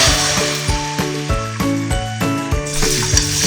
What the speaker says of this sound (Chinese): 锅中加入豆油20克，油温120摄氏度时倒入鸡蛋